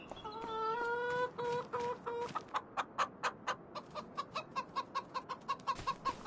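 Chickens in a farming video game cluck in a steady run of short, repeated calls, close and fairly loud, with a few higher drawn-out squawks near the start and no talking.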